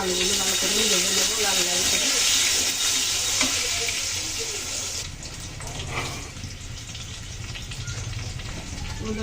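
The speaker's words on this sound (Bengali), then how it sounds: "আলুগুলো ভালো করে ভেজে নেবো লাল লাল করে" Potatoes fry in oil until reddish for a tengra fish dish, a dense, bright sizzle that is loud at first and then settles to a lower, steadier crackle, with faint background sounds beneath.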